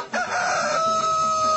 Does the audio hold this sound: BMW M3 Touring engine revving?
no